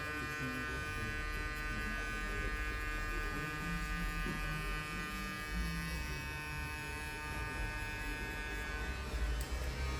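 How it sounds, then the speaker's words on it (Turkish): An electric hair clipper buzzes continuously and close up while shaving hair during a men's barber haircut, its steady whine holding level throughout with no talk. "Burada makinenin köşesini kullanarak tıraş edeyim"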